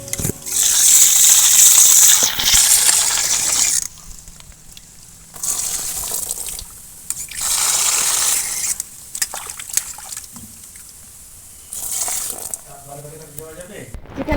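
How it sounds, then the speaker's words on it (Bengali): Raw chicken being rinsed in water for a home-style biryani, with bursts of gushing, splashing water from a tap alternating with quieter handling, close and loud. "আমি চিকেনটা ভালো করে ধুয়ে নেবো"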